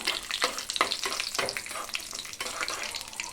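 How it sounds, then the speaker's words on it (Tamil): Cashews frying in ghee while making Ashoka halwa, a steady close sizzle with several sharp stirring scrapes against the pan, no voices. "முந்திரி பொன்னிறமாக வறுக்கணும்"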